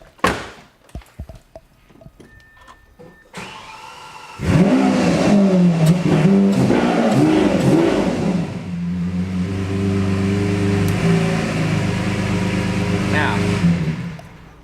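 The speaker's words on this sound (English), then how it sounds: "You gotta have a Lamborghini engine. Let me let you hear how this thing sounds." A car door thunks shut, then a Lamborghini engine fires up and revs loudly in a garage, roaring and climbing before settling into a strong, steady growl.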